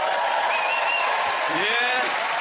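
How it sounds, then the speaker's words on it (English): Audience of a live British comedy variety show applauding and cheering, a steady loud wash of clapping with shouts and whoops from the crowd layered over it. "Applaud if you're a Londoner."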